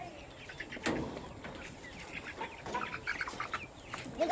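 A chicken clucks nearby in a few short, scattered bursts, fairly soft against a quiet farmyard background.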